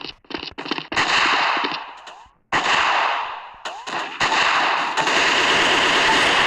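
Rapid automatic gunfire from a video game comes in loud, close bursts separated by short gaps, the rattling volleys sometimes trailing off before the next burst starts.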